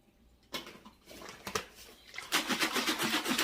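Water sloshes and rattles inside a can as it is shaken out during vegan spaghetti prep, with irregular knocks and splashes building to a steady, close, rhythmic shaking near the end.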